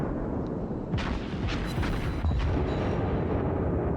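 Warship guns firing during a World of Warships battle against a battleship: several deep, booming shots in quick succession over a constant low rumble, with no talking.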